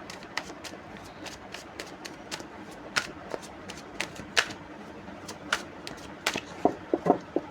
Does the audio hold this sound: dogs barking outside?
no